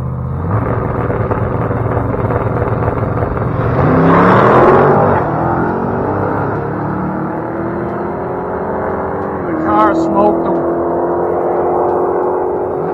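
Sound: drag racing truck accelerating down the dragstrip

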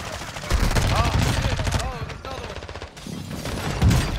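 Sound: airstrike and gunfire in a video game

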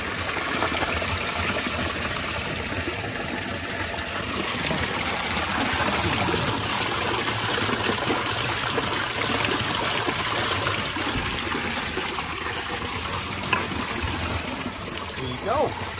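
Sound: Japanese Alps drinking water fountain flowing at Uozu Station

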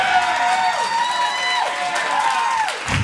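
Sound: comedy audience cheering

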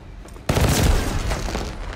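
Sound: gunfire with fireworks tracer effect in a Call of Duty video game

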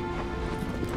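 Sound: horse hooves clip-clopping in the video game Shadow of the Colossus

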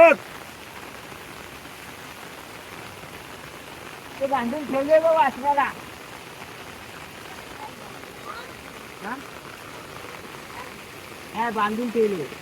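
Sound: heavy rain falling

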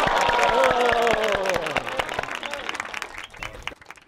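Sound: villagers applauding

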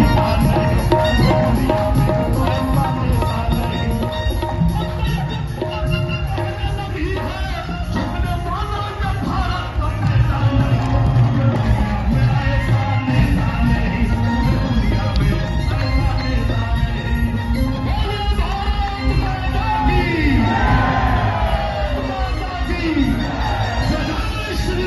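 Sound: crowd cheering and clapping for Narendra Modi

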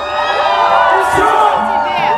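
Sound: concert crowd cheering and shouting loudly

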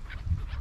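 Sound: birds calling

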